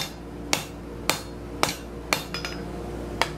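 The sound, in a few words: hammering a metal bar square on a scroll bending jig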